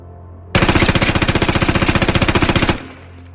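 A sustained automatic weapon burst from the Squad military shooter game, rapid evenly spaced shots for about two seconds, loud and close, cutting off abruptly with no talk.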